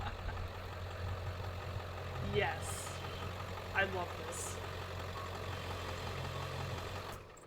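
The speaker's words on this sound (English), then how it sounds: "Thankfully, I have a handy dandy monster truck." A low, steady monster truck engine idle rumbles throughout, with a person briefly speaking over it a couple of times.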